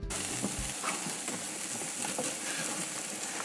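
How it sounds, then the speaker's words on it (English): Steady broadband sizzling of steak on a hot barbecue grill, continuous and close, with no voices. "That sizzle is just sweet music."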